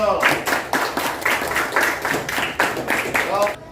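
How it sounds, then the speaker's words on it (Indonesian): A fifth-grade class claps for the first discussion group, steady rhythmic clapping from a roomful of students with voices mixed in. "tepuk tangan buat kelompok 1"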